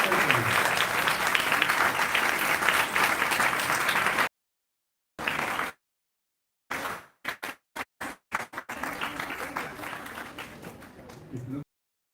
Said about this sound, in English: one big round of applause for our students